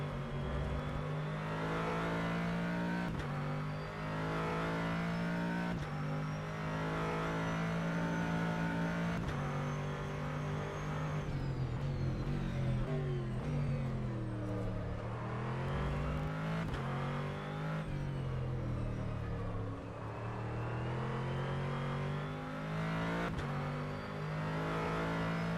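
A GT3 race car engine in the rFactor 2 racing game at Indianapolis revs steadily throughout, its pitch rising and falling with gear changes and throttle as the car laps alone, loud and continuous with no talk.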